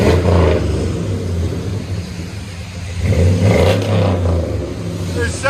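2001 Chevy Silverado 5.3L V8 with true dual Flowmaster 40 exhaust revving loudly up close, a deep burbling rumble rising and falling in two bursts with a softer idle between, a voice briefly heard over it.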